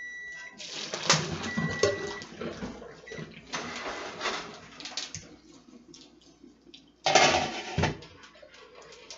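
Cooked spaghetti noodles are strained as water pours and splashes in bursts, with metal pot clatter between the pours, recorded close in a kitchen.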